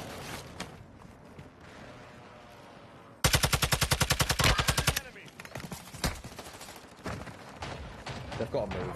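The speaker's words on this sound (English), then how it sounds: "I'm getting shot at" Video game gunfire cracks in a fast, loud automatic burst after a stretch of background noise, followed by scattered shots while players talk.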